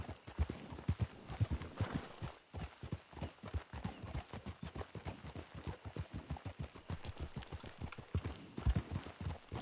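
Horse hooves clip-clop in the Red Dead Redemption video game, a steady, brisk rhythm of distinct thuds that keeps an even pace throughout, fairly close and with no talk over it.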